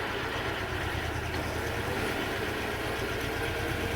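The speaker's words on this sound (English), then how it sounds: "it's a sturdy little diesel engine that will just work all day" Iseki TS1610 tractor's small diesel engine idles steadily, a low continuous rumble with faint vibration throughout, fairly close and heard alone with no talking.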